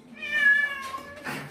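A house cat gives one drawn-out, tonal meow, close and fairly quiet, followed by a brief rustle and a short hiss-like breath.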